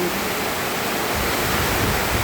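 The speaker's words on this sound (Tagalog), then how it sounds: "Baha na talaga dito sa amin. Simula pa kahapon yung ulan dito." Floodwater and rain outside a flooded house with water in the garage during a typhoon, a dense continuous rushing wash filling the whole clip with no pauses and no voices.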